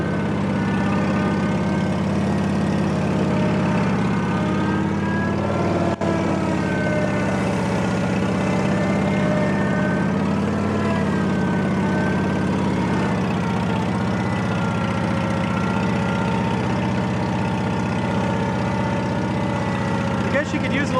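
An OMC Mustang 330 skid steer loader with a newer Onan engine idling nearby, a steady, even mechanical drone that holds constant throughout.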